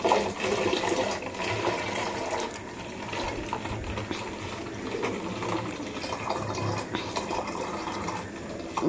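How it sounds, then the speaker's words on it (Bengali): Stored rice-washing water being poured out and splashing down below, a steady broadband rush of falling water running continuously and fairly loud throughout, with no voices. "নিচে কিন্তু জল পড়ছে।"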